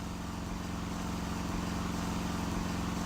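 A road drill in the video game Broken Sword 3 runs continuously, a steady droning, buzzing mechanical hum at moderate level with no voices.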